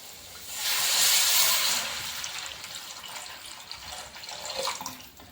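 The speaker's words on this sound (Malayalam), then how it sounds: "ഇനി ഇതിലേക്ക് നമുക്ക് ഒരു തേങ്ങയുടെ 2ാം പാല് ചേർത്ത് കൊടുക്കാം" Second coconut milk poured into a pan of snakehead murrel fish curry masala, giving a steady rushing, splashing pour that swells early and then eases into a softer trickle and bubble, close and alone.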